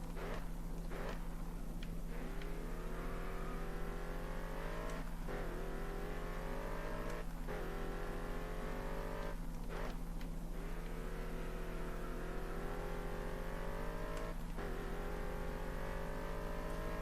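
A race car in GRID Autosport repeatedly revs up through its gears and drops off under braking, the engine whine rising in long sweeps, each broken by a short gap, over a constant low hum.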